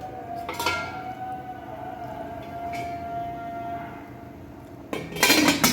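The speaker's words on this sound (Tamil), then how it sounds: "இப்போ மூடியை போட்டு மூடிடலாம்." A lid goes onto a cooking pot of parrot fish head curry with a metallic clatter, followed by a brief hum and a second, louder bright clank of metal on metal near the end.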